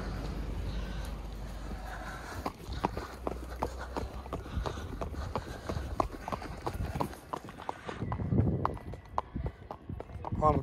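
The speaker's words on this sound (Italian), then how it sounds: "Eccola la mandria che sta scendendo, gran galoppo" A herd of Piedmontese cattle gallops downhill in the rain, many hooves clattering rapidly in a dense irregular drumming with faint voices in the background.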